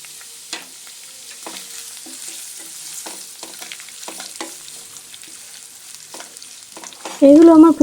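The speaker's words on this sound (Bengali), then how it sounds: "পনির ভাজা তেলে আমি দিয়ে দেব পেঁয়াজ কুচি, কাঁচা লঙ্কা, আদা, রসুন। এগুলো আমি ভেজে নেব।" Chopped onion, green chilli, ginger and garlic fry in oil left from frying paneer, a quiet steady sizzle broken by repeated spoon scrapes and stirring clatter, ending in a brief loud burst.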